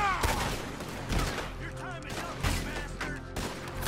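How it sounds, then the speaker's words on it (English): Gunfire in the video game Red Dead Redemption 2 during a shootout, scattered loud shots with echoing tails mixed with other game sounds, while someone talks over it. "Bullets are flying everywhere, guys."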